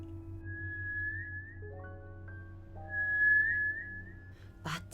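Eerie melodic whistling in a scary story, a thin wavering tune of rising and falling notes over a low hum, fairly faint and alone, ending in a brief burst of noise.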